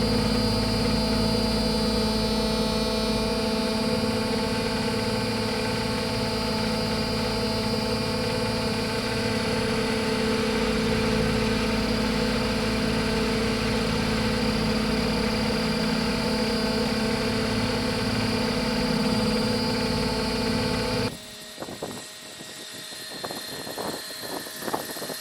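An 800-size Roban EC130 scale RC helicopter drones with a steady, loud whine and buzzing tonal hum while it comes in to land, then the motor cuts abruptly and winds down, leaving rustling and outdoor noise.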